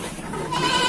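Goat bleating inside a livestock pen, a single nasal, wavering cry building in loudness toward the end of the short moment, close by with no talk.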